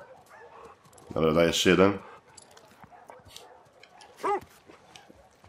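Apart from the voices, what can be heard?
dog barking and whimpering in video game The Last of Us Part II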